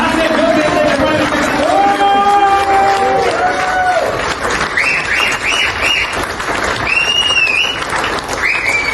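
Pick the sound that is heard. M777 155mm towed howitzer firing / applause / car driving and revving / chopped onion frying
applause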